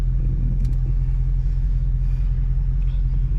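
A widebody Dodge Charger Scat Pack rumbles loudly at a deep steady idle up close, heavy low droning with no clear rev rise, no voices.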